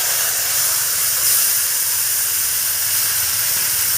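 Taro leaves dropped into hot oil with garlic fried deep red, giving a steady, loud broadband sizzle and hiss that holds evenly for the whole stretch, with a brief swell near the start and no voices.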